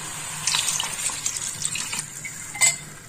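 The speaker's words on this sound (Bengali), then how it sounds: "আর দিয়ে দেবো এর মধ্যে জল।" Water poured into a pan of vegetables (okra and eggplant) cooking, a close, steady gushing splash lasting a few seconds with a brief louder spill near the end, no voices.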